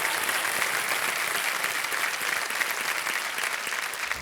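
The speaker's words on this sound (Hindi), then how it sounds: "एक बार फिर जोरदार तालियां बजाएं के लिए।" A studio audience on the KBC quiz show bursts into loud, dense applause that runs evenly throughout, a steady wash of clapping with no speech over it.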